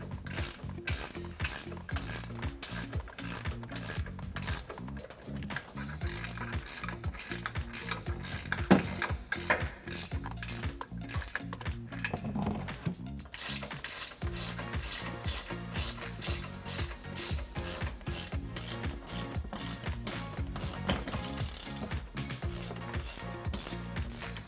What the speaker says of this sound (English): use a 17mm ratcheting wrench to tighten these down